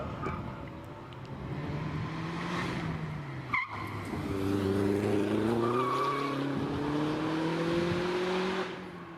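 Vauxhall VX220 Turbo, a Lotus-built Elise-based sports car, racing up the Prescott hillclimb course: a loud, sustained engine note that rises and falls through gear changes, with tyre squeal and a brief sharp transient midway.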